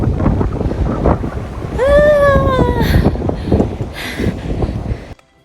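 Strong, cold mountain wind at Kyanjin Gompa in Langtang, Rasuwa, buffets the microphone in a steady, loud, broadband rush, with a brief whistling tonal sweep partway through before cutting off.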